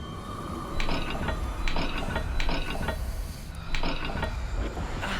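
A puzzle dial mechanism turns in the Hogwarts Legacy video game, giving repeated ratcheting clicks and gear grinding in several bursts over a steady low background rumble, with no talking.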